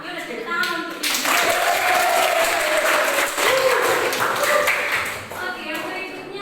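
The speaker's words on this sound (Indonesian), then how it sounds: "Yaudah tepuk tangan untuk ini." A classroom group claps together in a short burst of applause lasting about four seconds, close and fairly loud, with a voice talking briefly before it starts and again as it fades out.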